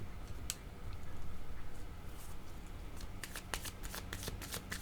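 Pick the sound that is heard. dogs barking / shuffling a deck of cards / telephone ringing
shuffling a deck of cards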